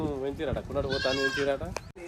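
Goats bleat in several wavering, nasal calls, close and fairly loud, with a person's voice mixed in around them.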